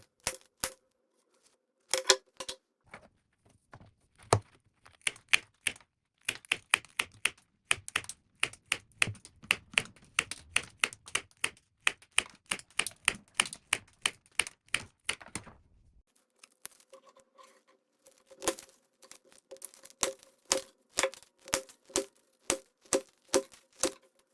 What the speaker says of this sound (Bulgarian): Сега е време да натоварим ножиците с 30 последователни среза